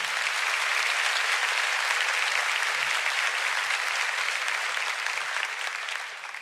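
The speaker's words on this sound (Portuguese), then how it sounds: "Você pode aplaudir ao Senhor." A church congregation applauding together during a Portuguese-language sermon, a dense, steady wash of clapping that stays loud throughout and eases off slightly near the end.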